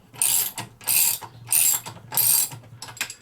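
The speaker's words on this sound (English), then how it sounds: "Now what I'm doing with these nuts is I'm tightening down till they are actually tight." A wrench tightening nuts on a piece clamped in a bench vise gives four loud bursts of rapid ratcheting clicks, each close to half a second long, separated by short pauses and followed by a few lighter clicks.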